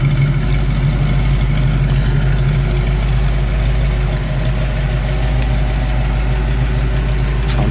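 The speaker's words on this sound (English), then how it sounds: "rev the car up a little bit so you can hear what this dual exhaust sounds like" A 1965 Mustang coupe with dual exhaust idles in a steady, deep, low rumble close by, with only slight swells in engine speed rather than sharp revs; no talking.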